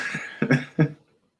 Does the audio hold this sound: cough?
yes